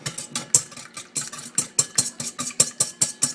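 Egg mixture for fortune cookies being whisked in a bowl, quick rhythmic metallic taps and swishes repeating about every quarter second, close and clear with no talking.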